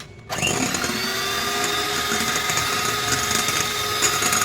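An electric beater whirs steadily, whisking oil into sponge cake batter, starting abruptly after a brief quiet moment and holding a loud, even mechanical drone with a high whine.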